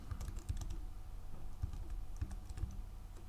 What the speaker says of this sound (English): we're going to type in MagicaVoxel